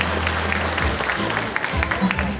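Applause from an audience at a community talk concert in Uljin, greeting the county council vice-chairman; scattered clapping runs throughout under a low hum and some murmured voices.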